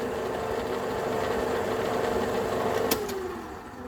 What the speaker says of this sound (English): If I start the lathe, you'll see what I mean.